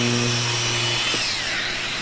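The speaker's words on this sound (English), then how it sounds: "So this little sander will allow you to get into corners very easily." A Festool Deltex detail sander with dust collection sanding right into a corner, a loud continuous motor hum and whir close by, its pitch dipping briefly midway.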